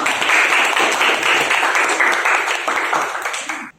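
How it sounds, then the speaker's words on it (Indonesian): A classroom full of people claps loudly and steadily for several seconds before the applause cuts off abruptly. "tepuk tangan dong buat semuanya"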